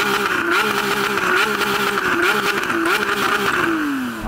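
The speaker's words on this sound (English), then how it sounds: "I'm going to start off by revving up the glorious V12 of this Lamborghini" A Lamborghini V12 revs hard at close range, a loud, continuous howl that rises and dips in several quick blips before falling away as the revs drop.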